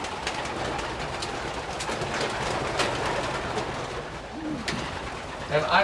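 Racing pigeons coo softly at a pigeon loft amid a steady hiss of background noise, with a few faint calls scattered through the few seconds.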